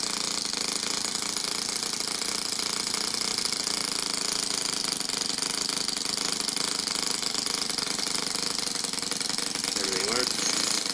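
A small engine converted to four-stroke runs steadily nearby, producing a rapid, even mechanical chatter that stays constant throughout.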